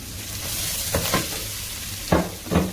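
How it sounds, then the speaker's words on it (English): Green chili and coriander sauté in a chicken curry sauce, giving a soft continuous sizzle broken by a few brief scraping stirs of a spoon in the pan, fairly quiet and close, with no talking. "So we will saute for about 5 minutes"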